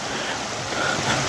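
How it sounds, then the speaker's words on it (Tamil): Stream water flowing below a waterfall in a New Zealand scenic reserve, a loud, continuous broadband rush close to the microphone with no one speaking. "தண்ணி ஓடுது."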